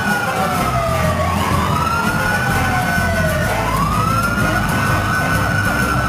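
Wailing sirens of the NYPD motorcycle unit escorting the end of the Macy's Thanksgiving Day Parade in Manhattan, loud and continuous, with rising and falling sweeps over a dense crowd and street rumble.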